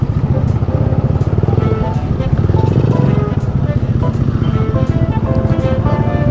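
A small custom motorcycle revs steadily during a test ride, its engine droning loud and continuous close to the microphone, with background road noise throughout.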